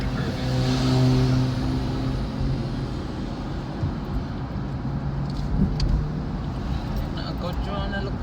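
Busy highway traffic rumbles continuously as cars stream past, a broad steady roar with a few louder passes, while people talk over it.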